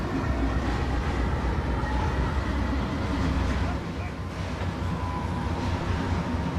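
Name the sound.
train running on rails in Trainz video game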